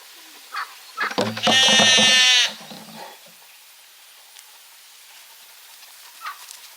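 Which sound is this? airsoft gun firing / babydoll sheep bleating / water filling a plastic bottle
babydoll sheep bleating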